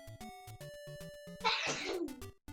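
A child sneezes once in a home, a loud burst in the middle, with a rhythmic musical or game tone pattern running before and after.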